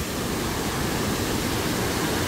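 A mountain stream swollen by heavy rain rushes through the Hongryongsa temple valley in Yangsan, Korea, heard from an arched bridge as a loud, constant roar of churning water with no break.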